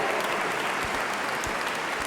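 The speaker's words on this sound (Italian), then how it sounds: "Un applauso." Audience applause at a concert by an ensemble in Col San Martino, Treviso: steady, dense clapping from a crowd filling the whole short stretch at an even loudness, with no voices over it.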